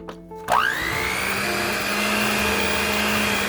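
An electric mixer starts up abruptly and whirs steadily through pumpkin cookie batter in a large bowl, its motor whine rising in pitch as it spins up, then holding a constant buzzing drone, close and fairly loud.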